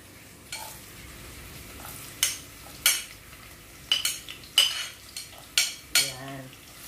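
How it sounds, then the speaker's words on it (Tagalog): Garlic frying in hot oil in a pan while being stirred, heard as a steady soft sizzle with repeated sharp scrapes and clinks of a utensil against the pan at close range. "mainit na po yung oil, ilalagay na po natin yung, ayan. Ayan, ilalagay natin yung garlic."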